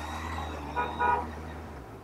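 Busy Mumbai street traffic with a steady engine rumble and two short car horn toots close together midway, no talking.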